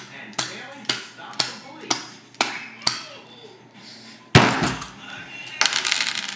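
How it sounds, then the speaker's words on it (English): A Bob Long Darq Marq paintball marker with a Delrin piston is slammed on a table, giving a series of about six sharp evenly spaced knocks followed by a louder clattering impact and rattling. "Just kind of slam it on the table."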